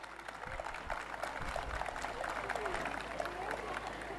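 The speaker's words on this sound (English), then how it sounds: "can we have another big round of applause for these little artists of Dikshant?" Applause from a school felicitation ceremony audience, a steady wash of clapping heard fairly faint and distant throughout, with some crowd murmur mixed in.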